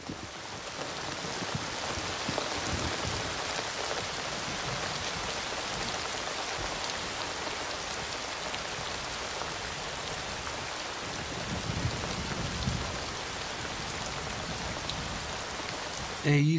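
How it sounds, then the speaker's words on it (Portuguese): Heavy monsoon rain pouring down in the desert, a dense unbroken hiss of drops hitting the ground, steady and close throughout with no voices. "Quando chove no deserto, chove de verdade."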